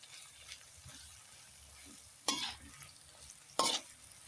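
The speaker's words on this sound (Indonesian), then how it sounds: "Ini aduk pelan saja pemirsa supaya matangnya merata." Chicken liver and gizzards fry in a pan with a soft, steady sizzle while being stirred slowly, with two louder scraping stirs standing out near the end.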